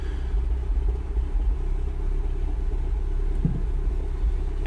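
A Mini Cooper S R56 engine idling rough with a high-pressure fuel system fault, a steady low rumble with a slightly uneven pulse, close and continuous, with no voices.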